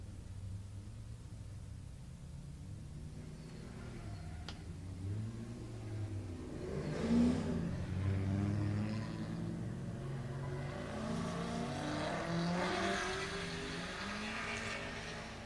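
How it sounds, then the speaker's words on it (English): A highlighter yellow and black Nissan S13 and a white Mazda Miata drift car accelerate at a drift shootout. Their engines rev faintly and at a distance against a hissy background, swelling around the middle and again near the end. "The highlighter yellow and black S13. Going to get chased by Tucker Tenhoff in the white Miata"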